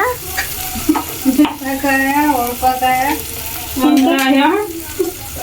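Chillies and onion sizzle steadily in a pan, a soft continuous frying hiss with occasional stirring scrapes, while a voice hums or talks over it in places.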